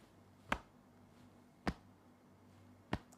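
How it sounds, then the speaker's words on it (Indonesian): Light patting on the chest with the right hand, three soft, separate pats spaced a little over a second apart, close and quiet against a faint background hum. "pegang dada kita dengan tangan kanan kita, kemudian tepuk-tepuk ringan"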